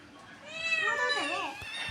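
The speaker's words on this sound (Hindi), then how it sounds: "कहाँ ए है बिल्ली, तो छोटू बिल्लू कहाँ गया" A cat lets out one drawn-out meow that rises and bends in pitch, close and clear over a quiet room with faint background noise.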